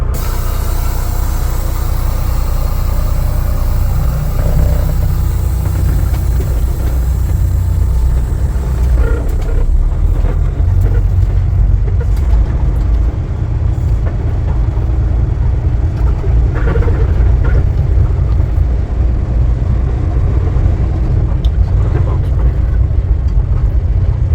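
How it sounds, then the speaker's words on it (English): A deep, constant rumble and drone fills the cab of a 2023 Kenworth T680 semi truck on the road, loud and unbroken throughout, with a voice talking over it at times. "The truck, there's lots of cab noise."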